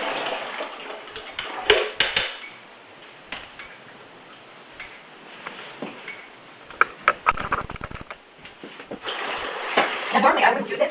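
Sudsy water from cooked mung beans being poured off in a kitchen, a wet splashing and trickling with clicks and taps from the pot, fairly close, with a person talking at times.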